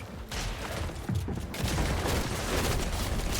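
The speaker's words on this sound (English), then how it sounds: "Good way to like weaken that wall with the pistol" Rapid pistol gunfire from a Fortnite match, aimed at a built wall, in a dense burst of overlapping shots and impacts that runs loud and close for the whole stretch.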